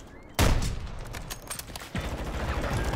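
Sniper rifle in a Call of Duty-style Search and Destroy match: one loud, close crack with a booming tail, then a second, softer report about a second and a half later, over steady game ambience.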